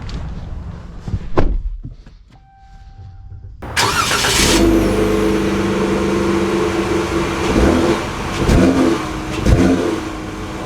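A 2025 Ram 1500 Tradesman pickup truck gives a few brief thumps and a quiet pause, then its engine fires up and pulls away, accelerating in a steady, loud drone with rising and falling surges and no talking.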